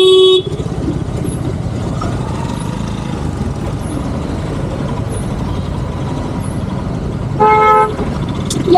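Car and truck horns in heavy traffic sound as sharp toots near the start and again toward the end, one long blare standing out over a constant loud rumble of engines and road noise.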